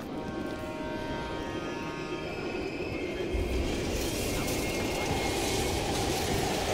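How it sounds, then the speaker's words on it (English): A train rumbles past in Black Ops Cold War, a broad roaring wash that swells louder partway through and stays loud to the end, with no clear talking. "We can use a train to slip past."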